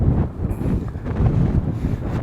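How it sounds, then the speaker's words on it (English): Gusty wind buffets the microphone in uneven rumbling bursts on Citadel Hill before dawn, rising and falling with no voices. "It's very, very windy up there."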